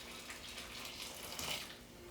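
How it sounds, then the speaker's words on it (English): Boiling water poured from a kettle onto sliced red onions in jars for quick pickling, a steady close hissing stream that gets slightly louder toward the end, with no talking. "So we're just gonna pour the boiling water on the onions like so."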